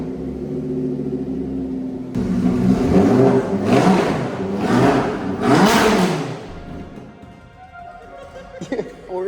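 A rare RWB Porsche's ten-cylinder engine cranks and catches, then barks through several loud, rising revs close by before dropping back to a rough, uneven idle.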